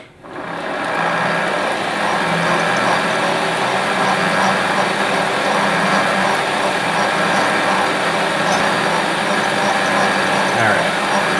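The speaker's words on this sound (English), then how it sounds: "So we're gonna drill out some of the top here." A machine drills out the top of a threaded metal rocket part in a workshop, a steady, loud whirring drone that runs continuously without pause from start to finish.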